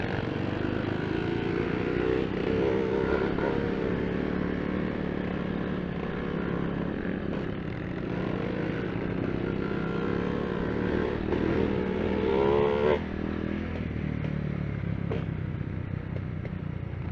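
A motorcycle engine runs steadily on Ungga Trail in Baras, Rizal, loud and close. It holds a constant drone with a brief rev near the end.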